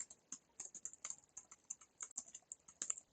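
Quick, uneven keystrokes on a computer keyboard as an e-mail address is entered, close and fairly quiet, with short bursts of clicks and brief pauses between them.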